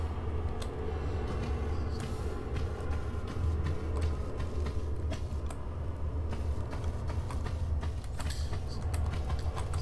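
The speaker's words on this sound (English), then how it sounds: "So pull the switch, and that's going to open up another door." A pulled switch opens a door in the Tomb Raider Colosseum level, producing a long grinding, creaking stone mechanism rumble that runs steadily and heavily throughout, with no voices.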